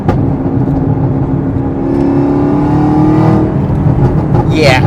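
A car engine breathing through a Corsa Performance cold air intake roars loudly and steadily, its pitch climbing and falling as it revs on downshifts, with a whooshing intake note throughout.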